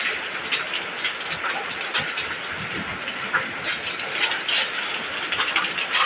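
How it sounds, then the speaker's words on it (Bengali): Heavy rain mixed with hail pours down in a dense, steady hiss with scattered sharp impacts, loud and continuous with no voices. "অনেক জোরে বৃষ্টি পড়তেছে"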